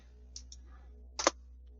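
Several sharp keyboard shortcut key presses on a computer, a few light single clicks followed by a louder cluster of taps, close and dry in an otherwise quiet room.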